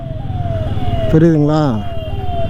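An ambulance siren wails on the road, a tone that gradually falls and then wavers over the low hum of traffic, while someone talks over it.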